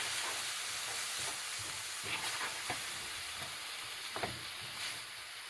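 Food sizzling loudly in a hot pan, with a steady hiss and crackle throughout and occasional stirring scrapes, with no voices.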